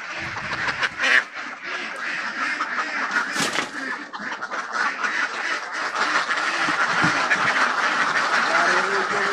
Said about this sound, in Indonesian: Dari ujung sini sampai ujung sana itu bebek semua ini.